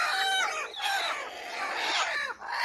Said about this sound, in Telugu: దాని తర్వాత ఇది 2వ కోడి, ఇది కూడా మస్తు పొదుగు ఉన్నది, ఇది మంచిగా కూర్చుంటుంది.